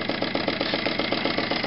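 A small engine idles with a steady, even chugging pulse of regular beats, close and moderately loud, with no one talking over it.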